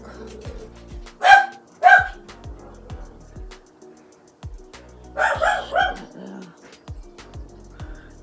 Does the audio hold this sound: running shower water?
no